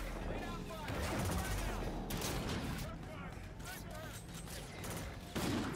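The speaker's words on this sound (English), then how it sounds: "Who is shooting me?" Video game gunfire crackles in dense, rapid bursts of overlapping shots that fill the whole stretch, with a sharp, loud volley at the very end.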